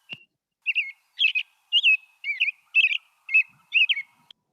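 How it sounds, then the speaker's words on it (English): An American robin calls nearby and clearly, giving a series of about seven short, warbling chirped phrases at a steady pace against silence. "There's our robin."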